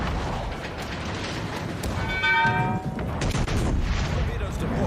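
Secondary battery guns on a warship in World of Warships fire in a rapid rattling string of shots over a rumbling sea and engine bed, with a louder metallic burst in the middle.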